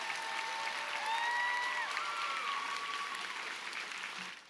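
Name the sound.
applause for a graduate at a commencement ceremony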